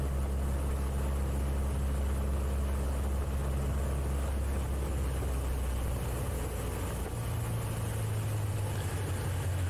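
A light aircraft engine drones steadily at reduced RPM on the downwind approach before landing, loud and continuous with a low hum that dips slightly in pitch partway through.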